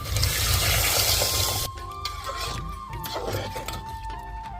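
Water poured from a small pot into a pot of guar bean curry, a full gushing splash for under two seconds that cuts off into quieter clinks and faint hum.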